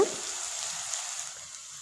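Chopped onion sizzles in a hot pan while being browned for a country chicken pepper gravy, a steady, fairly quiet frying hiss with faint stirring scrapes underneath and no voices.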